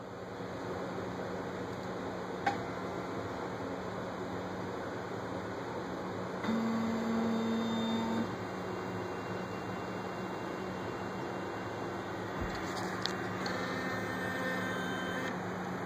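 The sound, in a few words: machine carriage moving to its home position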